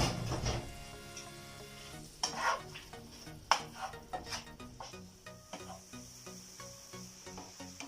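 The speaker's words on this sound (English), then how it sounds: "Now let's continue stirring." A cashew and raisin filling stirred in a pan for crepe rolls, faint scraping and soft sizzling with scattered clinks of the spoon, under background music and without speech.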